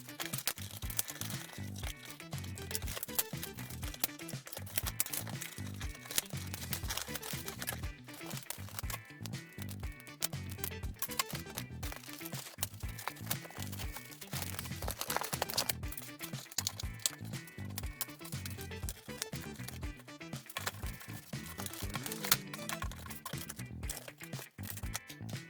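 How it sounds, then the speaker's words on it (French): Plastic packaging of a Barbie Extra doll being unwrapped, with continuous close crinkling and crackling, dense irregular rustles and occasional sharper snaps running throughout. "je vais continuer à déballer la poupée"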